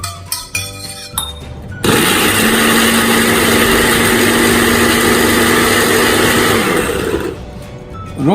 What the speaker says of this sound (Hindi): तमाम चीज़ों को ग्राइंडर में अच्छी तरह से ग्राइंड कर लेंगे।